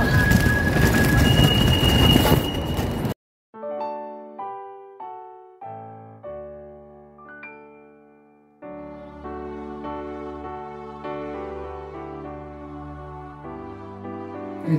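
Tram rolling along city rails, rumbling and squealing loudly up close for about three seconds before the sound cuts away to music.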